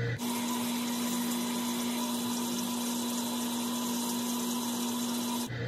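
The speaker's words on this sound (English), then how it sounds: "I'm going to wash my face with this" Running water pours steadily from a bathroom tap with a constant hum and rushing hiss throughout, a close, even flow as someone washes their face with water and a foaming cleanser.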